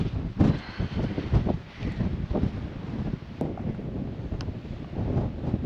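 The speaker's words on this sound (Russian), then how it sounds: "Наверное, нет смысла что-то говорить, потому что ветер такой, что меня не будет слышно." Strong mountain wind on Tenerife buffeting the microphone, loud gusty rumbling that swells and eases throughout, with no voice heard.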